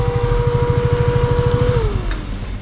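A car idles close by with a steady engine hum and a pulsing low rumble, its pitch easing down near the end as the engine settles, heard on a road near a village at the India–Pakistan border.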